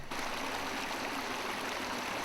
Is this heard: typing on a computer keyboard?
no